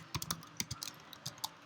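Notes being typed on a computer keyboard, a quick irregular run of soft key clicks, close and faint, with no voice.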